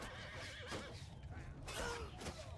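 A cavalry horse whinnies in a battle in the video game Mount & Blade II: Bannerlord, its faint neigh rising and falling within dense, quiet battle noise and hoof clatter.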